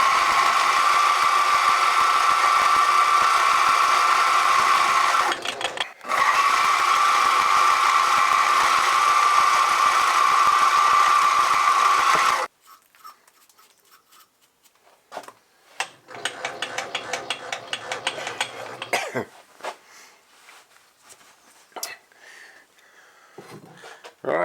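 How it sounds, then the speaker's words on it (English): A drill runs steadily and loudly while drilling 4BA clearance holes in a metal part for a miniature petrol engine. It pauses briefly and restarts, then cuts off. Quieter clicks and handling noises follow. "drill them out to 4BA"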